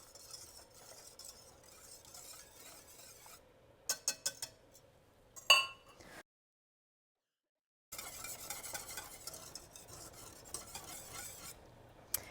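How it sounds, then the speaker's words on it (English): A spoon stirs macaroni and cheese sauce in a pan, making quiet, intermittent scraping strokes with a few louder clinks, then a short silence before soft stirring resumes. "I'm just going to stir this, so a boring next few minutes, just watching it till it gets thick."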